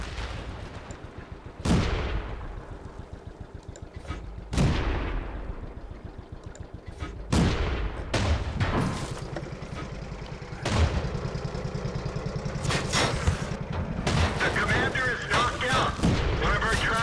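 Renault FT tank main gun firing in World of Tanks, with several loud booming shots spaced a few seconds apart over a running engine rumble and busy battle noise, with occasional talk.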